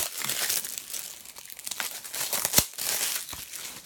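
Plastic wrapping crinkling and tearing as a Blu-ray case is unwrapped, close and irregular with a sharp snap partway through, no voice.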